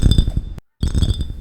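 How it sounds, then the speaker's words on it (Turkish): Glass clinking in a keyboard-controlled video game, a bright ringing chime with a short silent gap partway through, loud and close. "Camın sesi de böyle arkadaşlar."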